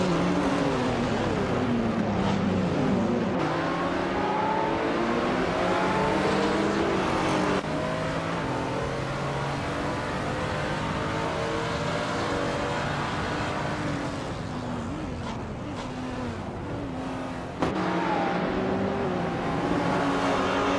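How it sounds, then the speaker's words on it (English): A 2015 Porsche 718 Cayman GT4 in a racing video game, its mid-mounted engine droning steadily at high revs with continuous loud engine noise, pitch sweeps as it shifts and rises through gears, and brief dips between pulls; no talking. "is running a 2015 Porsche 718 Cayman G T4, a car known for its balanced handling and mid-engine dynamics"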